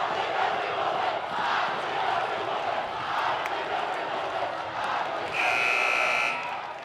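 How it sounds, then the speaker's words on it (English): A large indoor crowd at a high school girls' basketball game roars and cheers continuously, with a loud buzzer sounding near the end over the din. "you can hear there the LC crowd"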